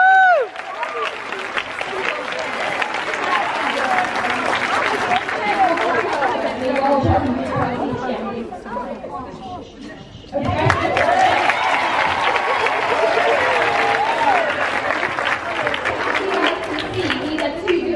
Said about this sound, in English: Give her a massive applause.